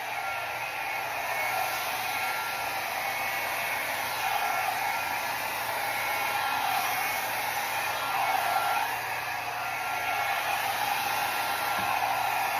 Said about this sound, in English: overusing the hairdryer